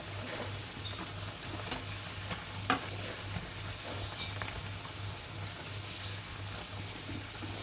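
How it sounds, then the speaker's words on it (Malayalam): Poori made from maida and semolina dough frying in a pan of hot oil, giving a steady, close sizzle that runs the whole time with faint crackles and one sharp pop near the middle. "ഇതുപോലെ എല്ലാം പൊരിച്ചെടുക്കാം"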